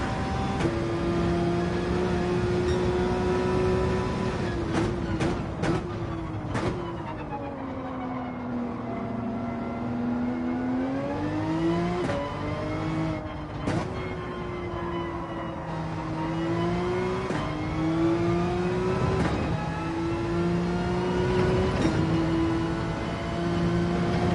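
A Porsche GT3 race car engine droning steadily in a PSVR2 racing game, the pitch sweeping up and down through gear changes and corners, with brief clicks over a continuous near hum.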